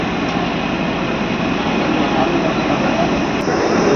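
A DEMU passenger train running at slow speed between Kurnool City and Guntakal, a steady loud rumble of wheels and diesel engine filling the whole span with constant broadband noise, heard from on board.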